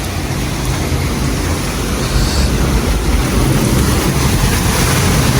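Dense, steady rainfall roars without a break during a storm, a broad hiss filling the whole stretch with a low rumbling undertone and no voices.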